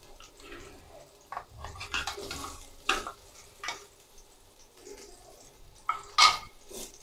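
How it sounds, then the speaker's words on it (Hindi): Ginger garlic paste is stirred in a cooking pan while preparing Chinese rice, with intermittent scraping strokes over a soft sizzle and a sharper clink near the end. "अच्छी तरह मिक्स करेंगे।"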